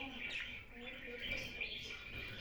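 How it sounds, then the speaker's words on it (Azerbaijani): A pet parrot makes high, thin chirps and squawks, soft and somewhat distant against a low background hum. "Bu qardaşımın quşudur, yaşayır."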